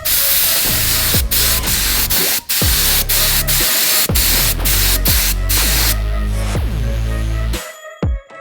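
A spray gun hisses steadily as Cerakote coating goes onto car parts, a loud close whoosh that holds for about six seconds, with repeated clicks and short breaks, then thins out and stops near the end.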